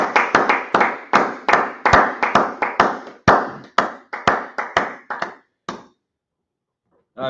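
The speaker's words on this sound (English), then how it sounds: "Clap it up, clap it up." Rhythmic clapping from a group during a brotherhood class session, sharp claps in a steady beat that thin out and stop near the end, with a brief voice starting afterward.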